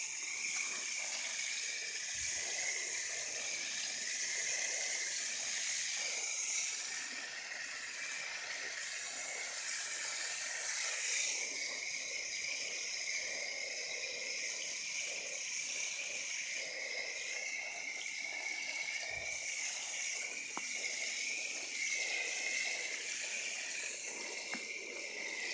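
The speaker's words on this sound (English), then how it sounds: "Water them in a good few times" Water hisses steadily onto newly planted potato grafts in garden soil, a continuous close spray with slight shifts in intensity and no voices.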